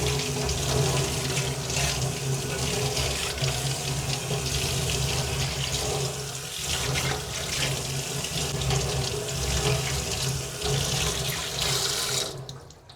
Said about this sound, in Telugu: ఇదిగోండి ఇలా వాటర్తో వాష్ చేసేసుకొని స్టవ్ మీద పెట్టుకోవడమే.